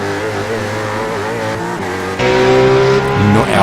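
Race cars roar around a track in a loud, close pass, engines revving and pitch shifting, with a sudden surge in volume and a brief tire squeal near the end.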